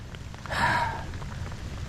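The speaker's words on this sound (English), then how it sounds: "And maybe this rain will stop." Rain falling during Hurricane Francine, a soft continuous patter of drops on surfaces with a brief breathy rush in the middle, moderately quiet and without speech.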